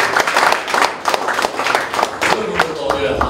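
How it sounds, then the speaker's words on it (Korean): Audience applause at a CEO lecture hall event, a steady wash of many hands clapping that carries on for the whole short stretch at moderate loudness, with some voices mixed in. "박수 한번 쳐주십시오."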